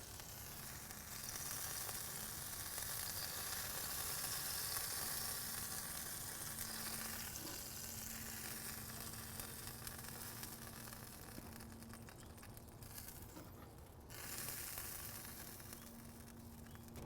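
Bacon sizzling on a hot cast iron kamado grill, a steady, fairly quiet hiss and crackle of frying fat that holds for a long stretch with a faint hum underneath and no talking.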